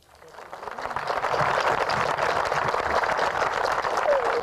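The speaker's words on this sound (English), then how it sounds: "you're applauding for yourselves" Audience applause swells in from quiet over the first second, then continues as a thick, steady clapping crowd, with some speech-like voices blended underneath.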